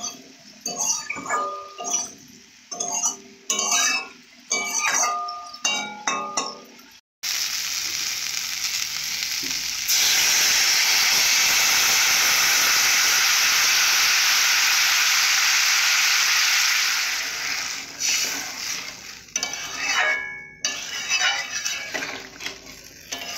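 Loud, steady hiss of a Bengali fish and potato curry frying with chili powder in a pan, with a spoon clinking and stirring at the start and end around a long unbroken sizzle.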